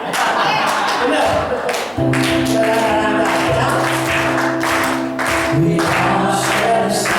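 An audience claps hands steadily together in time with singing and sustained musical tones, the dense clapping continuing almost without pause and fairly loud throughout.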